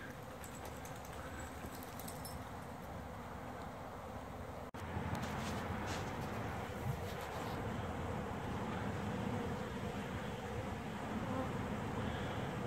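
Honeybees hum steadily during open pollen feeding in spring, a continuous outdoor drone of many insects that grows slightly fuller partway through, with no talking.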